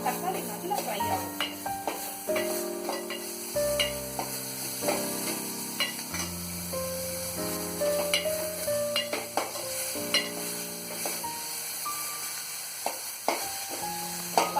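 Tomatoes and salt fry in a hot pan for a South Indian tomato rasam, a steady sizzle broken by repeated scraping and clinking strokes of a stirring spoon, close and lively throughout.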